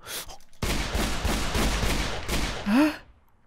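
Pistol gunfire in Minecraft, heard as a dense burst of rapid cracks lasting about two seconds, then a short rising tonal blip at the end.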